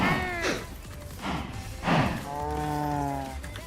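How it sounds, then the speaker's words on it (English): Baby cows in a farming video game moo in several drawn-out calls, with harmonic bellows near half a second, around two seconds and a longer one toward the end, over soft game background sound. "let's feed this little inner circle of baby cows here"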